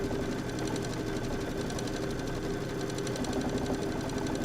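A home embroidery machine stitching out an appliqué block in a 7x12 magnetic hoop runs steadily and close, its fast needle chatter keeping an even mechanical rhythm throughout with no voices.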